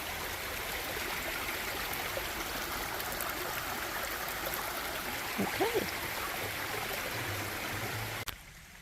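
Water runs steadily in a small stream on a forest hiking trail, a continuous close trickle and gurgle with a brief quiet word spoken partway through.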